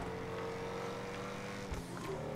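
Ocelot XA-21 supercar engine in GTA 5 Online, a steady loud droning hum with a sharp transient near the end.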